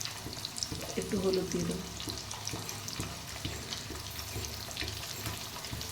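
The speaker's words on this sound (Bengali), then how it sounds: "এই কচুটা আমি ভালো করে ভেজে নেব।" Taro fries in a pan with a low, steady sizzle and occasional stirring clatter, while someone speaks briefly over it.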